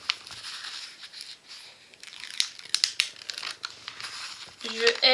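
Protective paper on a small 20 by 15 diamond painting canvas crinkles and crackles in a run of close, uneven bursts, and a voice talks briefly near the end.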